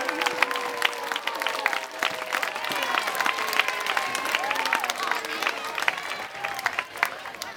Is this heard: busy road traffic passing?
no